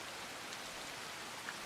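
Steady rain falls in the video game Assassin's Creed Shadows, a dense, even hiss of droplets throughout with no voices.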